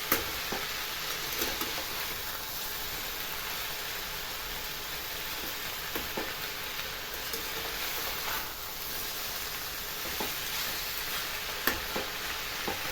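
Gobindobhog rice stirred and fried in a pan, a steady close sizzle with soft intermittent scraping of the spoon against the pan, running continuously without any talk.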